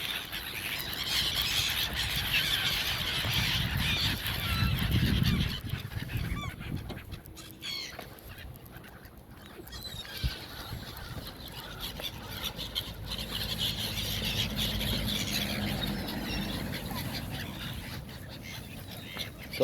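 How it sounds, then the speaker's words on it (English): Seagulls squeal and screech in a noisy flock along the Thames riverside at Twickenham on a morning walk, their calls rising over steady outdoor wind and ambient rumble with no one speaking. "getting attacked by seagulls"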